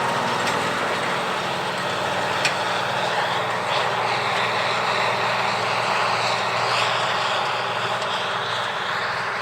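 Steady, loud engine drone of tractors working in a field, a dense rumbling roar with no pauses.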